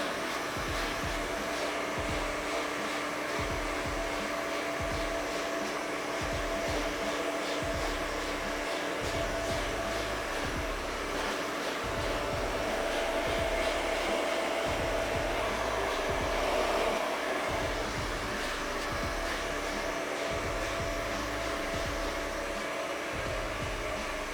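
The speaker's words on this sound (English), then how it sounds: "I'm gonna blow dry everything towards down" A hair dryer on medium heat blows hair downward during a low skin fade haircut, a loud continuous whooshing hum that holds steady throughout with slight swells as the airflow shifts, no talking.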